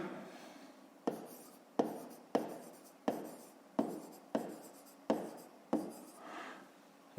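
A pen writes on paper in a run of about nine crisp, evenly spaced strokes, each starting with a sharp scratch and trailing off, close and fairly quiet, with no talking.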